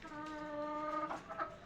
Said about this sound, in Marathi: एक कोंबडी इथे बसलेली आहे